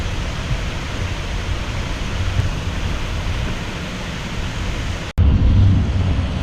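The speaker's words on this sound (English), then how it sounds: "Cool waterfall." Steady rushing water roars continuously, a dense broadband wash like a waterfall, loud and close, with a brief break near the end.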